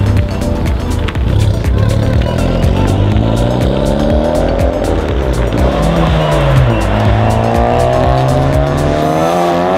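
Honda Type R car driven hard on a race track, engine revving loudly up and down through gears with tire noise, close and continuous for the whole stretch.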